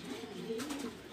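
Domestic pigeons kept in a loft coo softly in low, rolling murmurs across the short clip, with no talk over them.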